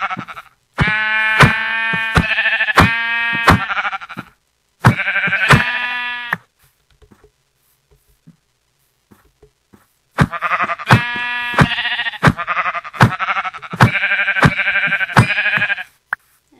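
Sheep in a crafting video game bleat loudly and repeatedly: two quick runs of wavering, nasal bleats, a quiet gap of several seconds, then another long stretch of overlapping bleats.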